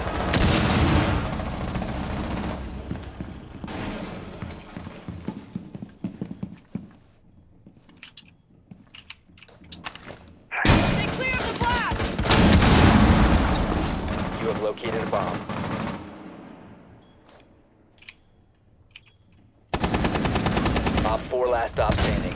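Gunfire and a breach charge in the video game Rainbow Six Siege: sharp bursts of automatic fire, a loud blast near the middle, then more shooting with quieter gaps and some voices between.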